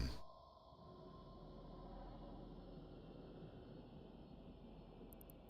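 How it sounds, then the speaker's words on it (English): Low, steady hum of drones in EVE Online, a faint continuous whirring drone with a thin high tone above it, quiet and unbroken for several seconds. "I can hear the drones."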